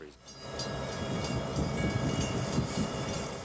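A train runs through deep-freeze weather at 25 to 30 below, giving a steady rumbling, rattling roar of railcars close by that continues for the full clip.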